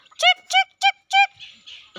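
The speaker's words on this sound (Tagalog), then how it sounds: "Sumasagot siya sa akin yung ibon." A bird calls back in answer with four evenly spaced, harmonic chirping notes, fairly close and clear, followed by softer breathy sounds.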